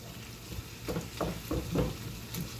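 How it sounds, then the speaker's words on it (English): A spatula breaks up ground meat in spaghetti sauce in a pan, with soft rhythmic scraping pushes over a low, constant sizzle. "I'm just kind of dicing up the meat a little bit better, making sure everything's broken up"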